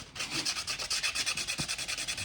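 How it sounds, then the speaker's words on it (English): Light sanding close up on a handmade fishing swimbait, quick rhythmic back-and-forth rubbing strokes, steady and even, with no talking. "just trying to get a light sanding on this to get a nice smooth surface."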